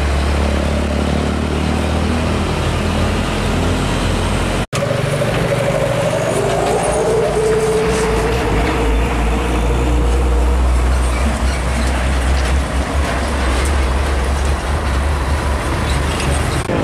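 A Mitsubishi Fuso 6x4 truck hauling a load of logs rumbles close by with a loud, steady, heavy engine drone, briefly cut by a sharp dropout partway through.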